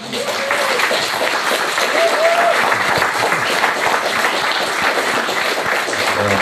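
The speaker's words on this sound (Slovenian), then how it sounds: "Pa aplavz za vse nas" An audience at a gathering in an old school hall applauds, with steady, dense clapping holding at full loudness throughout and a voice briefly heard over it.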